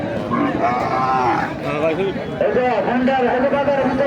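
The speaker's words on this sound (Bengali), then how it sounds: "দেশি গরু" Local cattle at a rural livestock market low in drawn-out moos amid a busy, noisy crowd, with people talking throughout close by.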